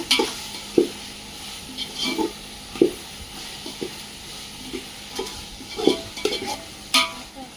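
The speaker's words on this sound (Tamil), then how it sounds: "ஸோ இப்போ வெங்காய தக்காளியெலாம் நல்லா வதங்கிருச்சு" Onions and tomatoes sautéing in a mutton biryani pot over a village-style wood fire, a steady sizzle with repeated scraping stirs of a spoon against the pot, close and with no talking.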